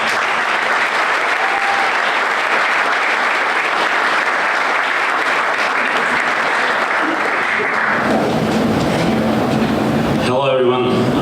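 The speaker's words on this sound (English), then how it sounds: "A round of applause, please" Loud, dense audience applause welcoming a former professional soccer player to the stage at a Utica City FC brand unveiling event. It fills the room steadily for about eight seconds, then fades into murmur and a brief knock.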